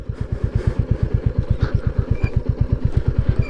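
A Royal Enfield Classic 350 motorcycle pulls away in first gear on a rough dirt road, its single-cylinder engine thumping in a steady, even beat close by.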